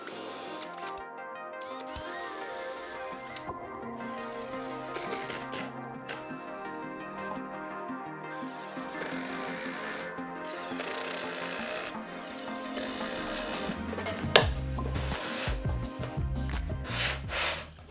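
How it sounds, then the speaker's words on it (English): Drilled screw holes in the underside of a walnut table are countersunk, producing steady rubbing and grinding through the wood with rising and falling tool whine, close up and without talking. "Now I'll flip the table onto its face and countersink the holes that I just drilled from the top."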